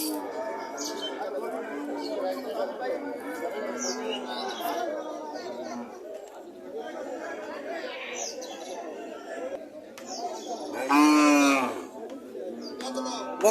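Cattle low at a busy village cattle market where a Sahiwal heifer calf and local cows are sold, one loud close moo rising near the end over steady crowd chatter and people talking.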